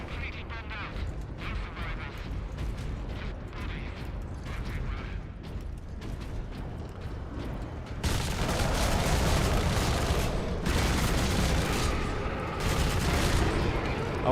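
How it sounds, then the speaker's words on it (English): Heavy bolter gunfire in the mech combat game Brigador, a dense, sustained roar of rapid shots that steps up sharply in loudness partway through and carries on to the end, with mechanical clatter throughout. "Now we take the heavy bolter."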